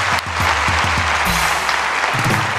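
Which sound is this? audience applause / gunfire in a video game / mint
audience applause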